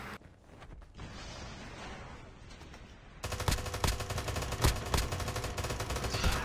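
Holger 26 light machine gun firing in the mobile shooter COD Mobile battle royale: scattered distant shots at first, then loud, dense automatic bursts with sharp cracks that continue to the end.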